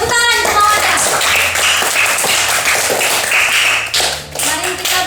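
A school class clapping hands together at a teacher's prompt, a loud burst of close applause lasting several seconds, with some voices mixed in.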